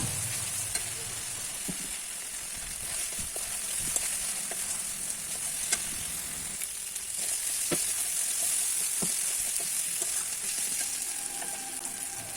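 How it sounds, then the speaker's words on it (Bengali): Turmeric, salt and spices fry and sizzle steadily in a pan for a spicy fish curry, with scattered sharp clicks and scrapes of a spatula stirring throughout, fairly close and continuous with no talking. "এবার মশলাগুলো একসঙ্গে ভালো করে কষিয়ে নিচ্ছি"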